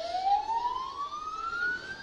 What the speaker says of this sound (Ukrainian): Далі прибуває наш пожежний автомобіль.